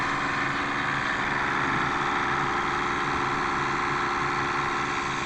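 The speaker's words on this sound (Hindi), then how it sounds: "तो अभी ये हमारा इंजन जो है ये रनिंग पोजीशन में है।" A Shindaiwa 400DM-KAH engine-driven generator welder idles steadily at close range, a constant mechanical drone with a cooling fan whir, unbroken and alone with no voices.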